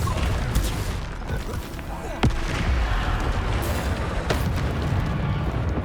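Bombarda explosion spells cast in Hogwarts Legacy, heard as sharp blasts around the two-second mark and again later over a dense, continuous roar of combat noise.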